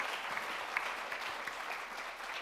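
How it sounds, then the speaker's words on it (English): An audience at a design research conference panel at MIT applauds steadily, a soft, even spread of many hands clapping with a few distinct sharper claps, heard somewhat distant. "So can we hear a round of applause for this panel and how they did?"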